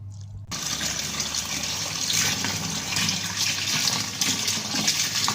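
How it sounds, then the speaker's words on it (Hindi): Homemade butter is washed in clean water, with a continuous close splashing and sloshing of water swirling around it, loud and steady and without voices. "अब हम मक्खन को धोते हैं।"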